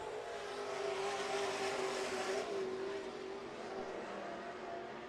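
Pure and super stock cars racing at Miller Central Speedway at night, a steady distant roar of engines holding one droning pitch, fairly faint and continuous.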